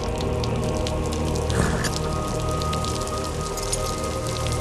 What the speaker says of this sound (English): stand outside in the rain